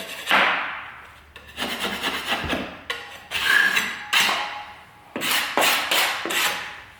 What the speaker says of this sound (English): What we're going to do is just take a scraper